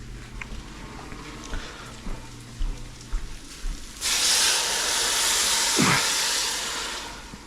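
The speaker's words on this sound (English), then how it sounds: "just gonna add some water to this" Quiet clinks and handling noises, then water pours into a hot pot of arroz con pollo and a loud, steady hiss and sizzle take over and continue.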